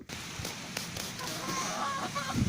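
Free-range country chickens and chicks on a poultry farm cluck and cheep softly at a moderate distance in a brief stretch of ambient farm noise.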